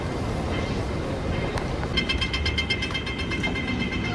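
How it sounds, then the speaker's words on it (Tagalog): An airport shuttle train in Hong Kong rumbles in close, with a steady low roar and a faint squeal of wheels over a busy, echoing background. "Ayan na yung tren."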